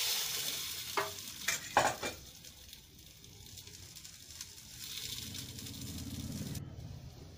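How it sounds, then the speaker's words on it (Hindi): Potato chips frying in hot oil, with a few sharp crackles and stirring clatters near the start, then a softer, steady sizzle. "साथ में ही आलू के चिप्स भी डिप करके हम इसमें डाल देंगे।"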